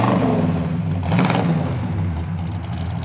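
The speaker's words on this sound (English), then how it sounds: "Good sound and dual exhaust." A 1967 Oldsmobile Cutlass Supreme's engine rumbles nearby with a deep dual-exhaust burble, briefly revving up before settling back to a steady throb.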